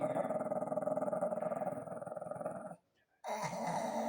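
A dog growls low and continuously at close range, pausing briefly near the end before growling again.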